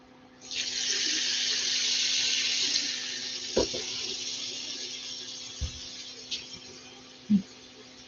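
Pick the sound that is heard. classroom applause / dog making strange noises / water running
water running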